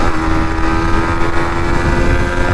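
Yamaha MT15 motorcycle pulling in fourth gear on the road, engine note droning steadily and loudly under heavy wind rush, with no talking.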